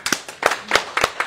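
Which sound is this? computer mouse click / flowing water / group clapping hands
group clapping hands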